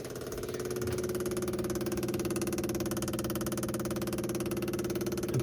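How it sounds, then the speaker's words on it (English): An electric fuel pump on a 1969 Triumph Vitesse runs with a steady, continuous buzzing hum. It holds an even level from start to finish after a quick rise at switch-on, and no one speaks. "we'll flick the ignition on and see what happens with the fuel pump."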